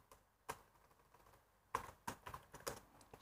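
Keys tapped on a computer keyboard while writing HTML heading code, quiet scattered keystrokes in irregular bursts with a short pause before a quicker cluster.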